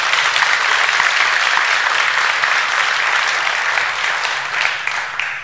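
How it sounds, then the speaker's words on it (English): Sustained applause from a conference keynote audience honoring a classroom teacher, dense and steady clapping throughout before tapering slightly near the end. "I think you should all give her a big round of applause"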